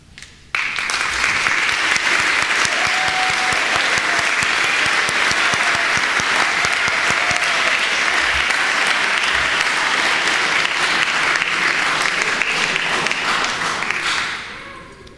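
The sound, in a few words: audience applause at graduation ceremony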